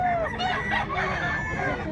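At a chicken expo in Mantalungon, Barili, Cebu, roosters crow amid a steady noisy crowd, several overlapping harmonic calls running through the short stretch while people talk nearby.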